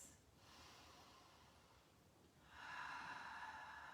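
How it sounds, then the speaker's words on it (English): Slow, deep breaths are taken during a gentle seated chair yoga session: a soft breath in, then a longer, louder, airy exhale. The breathing is close but faint, with no speech. "Big deep breaths."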